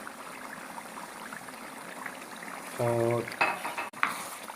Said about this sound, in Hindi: अब इसके अंदर ये मैं दाल डाल दूँगा।